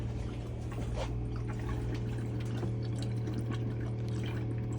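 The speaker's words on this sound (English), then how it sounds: "We'll just see if we've got enough water to fill the boiler up." Steady rushing and trickling of water filling a motorhome boiler, continuous and even throughout, with a low mechanical hum underneath.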